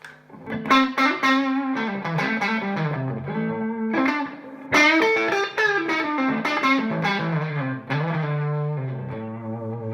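An electric guitar through a small Kauffmann Super 6 tube amp plays a melodic run of distorted, slightly gritty notes with a warm amp tone and light reverb, loud and close, no talking.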